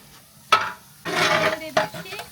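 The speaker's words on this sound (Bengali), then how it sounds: "অবশেষে হচ্ছে পিঁয়াজ ঢেলে দেওয়ার পালা" Onions tipped into a hot cooking pot, a sharp clank followed by a loud burst of sizzling and stirring, then another metallic scrape near the end.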